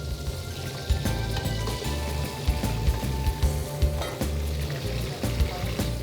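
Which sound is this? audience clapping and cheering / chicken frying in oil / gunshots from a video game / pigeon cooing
chicken frying in oil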